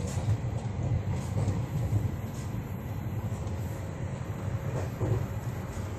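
Inside the carriage of a long-distance passenger train running between Pune and Kolkata, a constant low rumble and rattle rolls on with faint rhythmic wheel clatter and no voices.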